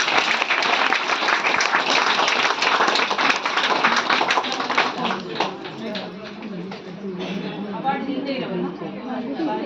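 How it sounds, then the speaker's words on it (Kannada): An audience at a Women's Day event applauds loudly for chief guest Jayalakshmi, dense steady clapping that fades slightly toward the end, with crowd chatter mixed in. "ಒಂದ್ಸಲ ಜೋರಾಗಿ ಚಪ್ಪಾಳೆ ಕೊಡ್ತೀರಾ ನಮ್ಮ ಜಯಲಕ್ಷ್ಮಿ ಮ್ಯಾಮ್ ಅವ್ರಿಗೆ?"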